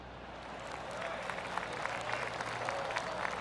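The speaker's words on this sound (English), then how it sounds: "Oh, I can hear the golf claps around the course." Polite golf claps ripple around the course in PGA TOUR 2K25 during a career-mode championship round, a steady, faint bed of scattered applause from a distant gallery with no voices.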